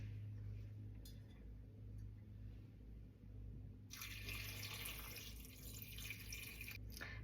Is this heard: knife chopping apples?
no